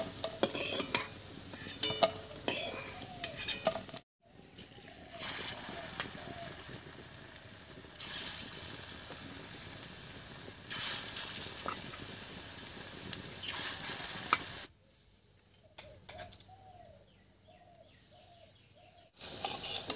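Lentil fritters with egg sizzle in hot oil, a soft steady frying hiss with occasional stirring clatter, and bird calls can be heard in the background.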